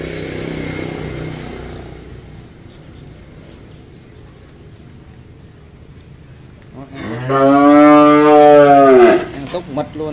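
A cow at a Vietnamese cattle sale, F2–F3 crossbred stock, lets out one loud, drawn-out moo in the second half after quieter farm ambience, with a few brief trailing sounds at the end.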